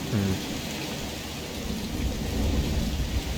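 Steady rain and rumbling thunder heard from inside a building in the Half-Life 2 mod Entropy: Zero, a continuous wash of rainfall with low thunder rolls swelling beneath it, no voices.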